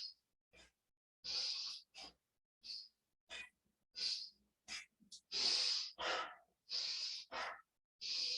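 Breathing during a qigong exercise session: a series of sharp, forceful breaths and exhalations in an irregular rhythm, separated by silent pauses, close and fairly loud with no talking.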